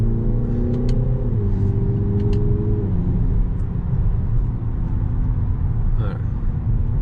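A Peugeot 3008 GT Line engine accelerates in manual mode from inside the cabin, droning and rising in pitch with a couple of shifts as revs climb, while people talk over it.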